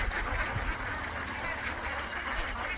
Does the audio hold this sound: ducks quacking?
yes